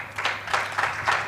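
Audience applause at a high-level policy dialogue event, a moderate burst of clapping with rhythmic swells, heard from within the room.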